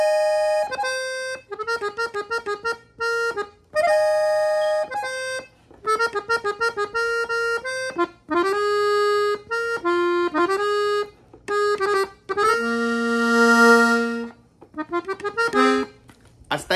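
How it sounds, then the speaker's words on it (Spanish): An accordion tuned in F plays a song from a tutorial, with bright reedy melody notes over pumping bass-chord accompaniment in steady phrases, close and clear with short pauses between phrases and no talking. "La canción originalmente está grabada con un acordeón de fa, como este."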